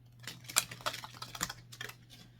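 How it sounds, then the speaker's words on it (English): A rapid series of light crisp clicks and riffles as a deck of oracle cards is shuffled, irregular bursts close up, quiet against a faint background hum. "We're going to shuffle the Moonology deck here."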